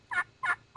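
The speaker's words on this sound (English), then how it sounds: "increase your turkey rhythm to sound like a more excited hen" Friction turkey call worked with a striker moved in circles across its surface, giving repeated raspy, high hen-like yelps at a steady, fairly quick rhythm, close and clear with nothing else audible.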